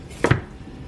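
A knife cuts through a cauliflower stem and the florets snap apart, making one short, crisp crunch with a quick double crack, close and alone.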